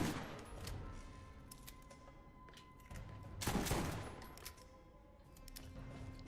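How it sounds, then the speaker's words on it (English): Sledge's Shotgun firing in Borderlands, a burst of loud blasts with a heavier shot in the middle and game ambience around it, no talking. "Alright, so here's Sledge's Shotgun."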